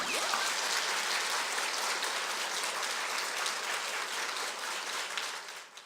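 An audience at a public lecture breaks into dense, sustained applause that holds steady for several seconds and then begins to fade at the end, with no talking over it.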